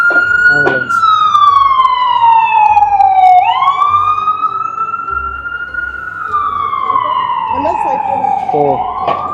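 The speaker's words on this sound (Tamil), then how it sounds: "இங்கே பாருங்க ஆம்புலன்ஸ்." A loud wailing ambulance siren sweeps slowly up and down on a New York City street at Christmastime, close by, with traffic rumble and faint voices underneath.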